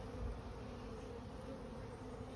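Honeybees buzzing steadily around an open hive during an inspection, a dense, even drone of many insects close by and alone.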